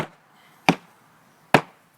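A hammer taps metal hooks closed on a foundry mold packed with oil-bonded sand during art bronze casting: three sharp, isolated strikes spaced under a second apart, close and clear against a quiet room.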